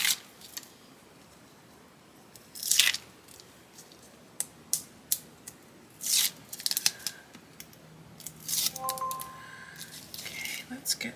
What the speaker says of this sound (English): Now I can go remove all of my backing paper.